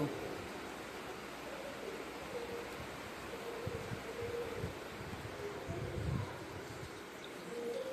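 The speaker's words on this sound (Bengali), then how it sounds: "এই দেখো আমাদের এদিকে খুব বৃষ্টি হচ্ছিল।" Heavy rain pours down continuously in an even, wash-like hiss, broken by a few dull low thumps. No voices are heard.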